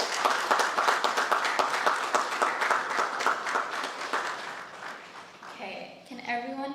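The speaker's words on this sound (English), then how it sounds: "A round of applause for the students here today." Rhythmic applause at a medical school graduation ceremony, many hands clapping in a strong, pulsing beat that fades out as a voice begins speaking.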